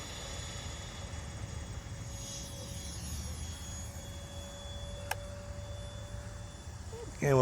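A Sky Flight Hobby F-22 foam RC jet flies at full throttle, a steady distant engine drone hanging under outdoor noise, with a brief click near the end.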